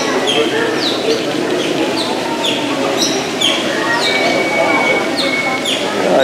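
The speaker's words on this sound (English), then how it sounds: "In it with me, got a Nakabar pigeon and a Bali Mina." Birds in a zoo habitat with a Nicobar pigeon and a Bali myna give repeated sharp, rising chirps and whistles over a constant murmur of visitors and background noise, with someone talking close by.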